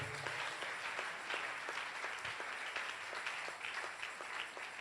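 Church congregation clapping along in a steady rhythmic beat, many hands at a moderate distance, fairly faint and continuous throughout.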